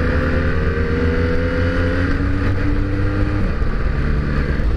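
A BMW motorcycle engine hums loud and close while riding, a steady drone with a slight pitch shift partway through and no voices.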